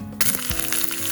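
Mustard seeds crackle and sizzle in hot coconut oil for a Kerala-style beetroot pachadi tempering, a close, steady fry hiss that starts abruptly with small pops scattered through it.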